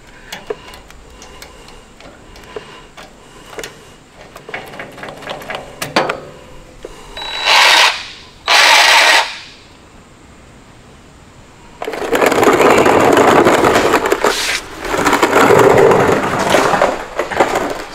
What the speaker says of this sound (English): Sounds like it's grinding or something.